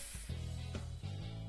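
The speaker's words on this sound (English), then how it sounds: "Oh wait, I need to spray these guys." Steady hissing spray over a low electronic hum, broken by short pulses, from a spray can in the game Dayshift at Freddy's.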